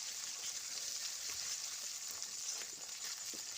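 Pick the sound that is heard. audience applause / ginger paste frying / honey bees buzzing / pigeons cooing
ginger paste frying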